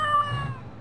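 A cat lets out a short, tonal, slightly strained meow, close by and moderately loud, fading out within a second.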